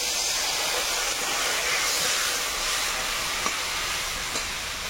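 Water poured onto sizzling masala for a crab curry sets off a loud, steady steaming hiss that fills the pan continuously, with no pauses.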